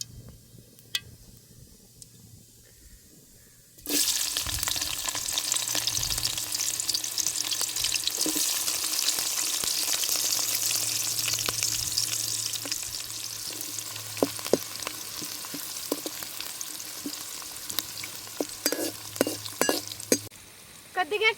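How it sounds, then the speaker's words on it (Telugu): Chopped onion pieces drop into hot oil with cumin in a pan and burst into loud, steady sizzling and frying, with occasional stirring clinks and scrapes, close up. "ముందుగా తరిగి పెట్టుకుని ఎర్రగడ్డ ముక్కలు వేస్తాను"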